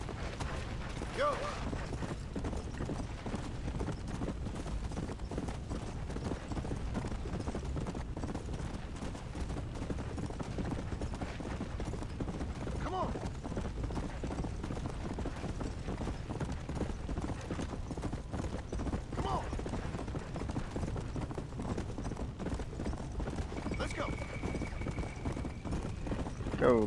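Horse hooves clip-clopping in a steady galloping rhythm across the whole stretch in Red Dead Redemption: Undead Nightmare, fairly quiet and continuous, with faint creaks and a brief whinny-like tone near the end.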